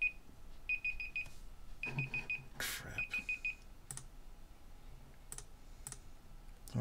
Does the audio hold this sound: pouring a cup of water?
no